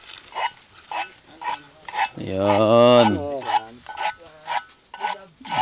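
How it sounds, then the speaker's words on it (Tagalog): A blade being sharpened on a farm gives close, regular rasping strokes about twice a second, with a short spoken voice cutting in partway through. "Pakita mo yung hasa."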